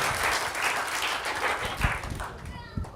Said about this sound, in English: Big round of applause for them too, please.